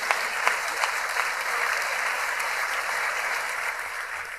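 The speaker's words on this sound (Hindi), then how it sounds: "और इसी बात पर दे दो ताली" Audience applause at a Hindi kavi sammelan poetry recital, steady broadband clapping filling the whole stretch with a few sharper claps early on, moderately distant and without talk.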